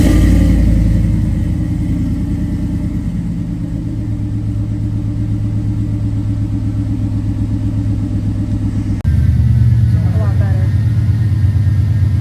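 A Chevrolet Silverado truck fitted with long tube headers and a welded muffler rumbles loudly at close range as its V8 starts and idles with a deep, lumpy burble, then a sharp shift near the end as it revs slightly.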